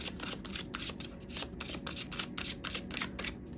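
A deck of tarot cards being shuffled close up, a rapid, rhythmic series of crisp riffling bursts that repeat steadily without pause and with no voices.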